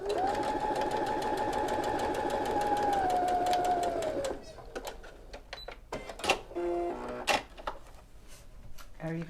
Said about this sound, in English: the first thing we're going to do is sew this together.